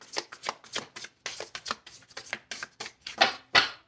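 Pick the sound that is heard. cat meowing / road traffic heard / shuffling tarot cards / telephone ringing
shuffling tarot cards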